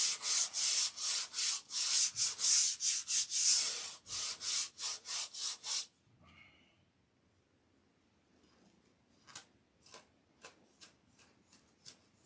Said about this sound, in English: Oh, we could sand it again